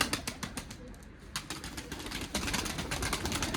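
Pigeons in a small backyard coop, including old-lineage Mardin birds: soft cooing and wing flutters sound close but faint, with sharp clicks and rustles scattered throughout and a busier burst of activity near the end.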